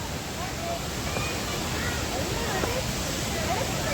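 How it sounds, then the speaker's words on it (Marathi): Vibhuti waterfall in Gokarna pouring steadily as a broad, constant rush of falling water, with people talking faintly nearby. "आपण वॉटरफॉलला पोहोचले तुम्ही बघू शकता."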